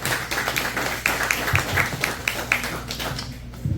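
Audience applause at a university talk on artificial intelligence, a room of many hands clapping at close range in a quick, irregular patter that thins out toward the end.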